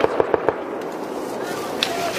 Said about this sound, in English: Hey, Maz, condition set for your shot is the guns going for suppression, alright?